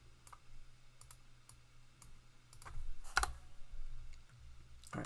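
Keys click on a computer keyboard in short irregular bursts of typing, close and fairly quiet, with one sharper clack partway through.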